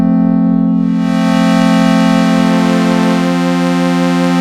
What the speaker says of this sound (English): But also a continuously variable wave shaper.